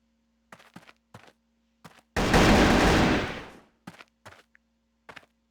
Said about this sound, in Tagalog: Ang kulit ng baril ni Gerald, no? Parang water gun.